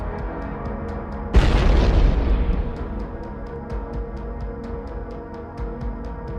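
An artillery cluster munition strike in bare winter woodland lands as one sudden loud blast that rolls into a long rumbling decay, followed by a steady low background dotted with faint, regular clicks.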